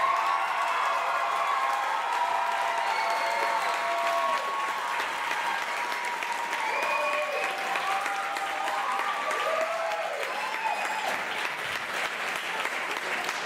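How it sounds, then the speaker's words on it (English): Sustained audience applause at a school a cappella show fills the hall steadily, with dense clapping, some cheering and voices woven through it. "let's give a big round of applause for Mr."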